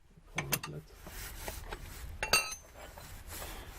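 Metal clinks and scraping from a wrench working loose the 17 mm driveshaft bolts on a BMW E36, a few sharp taps up front and another bright clank midway, fairly quiet and close.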